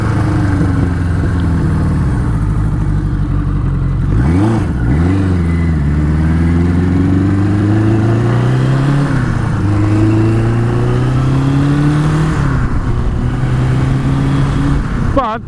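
A Suzuki GS1000 motorcycle engine idles a little high with a close, steady, throbbing note, its pitch rising and dipping gently a few times. A voice speaks briefly over the running engine.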